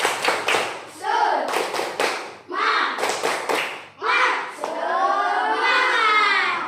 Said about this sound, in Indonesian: kalau gitu kita tepuk semangat dulu ya